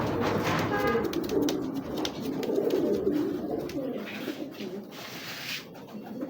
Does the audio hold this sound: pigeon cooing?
yes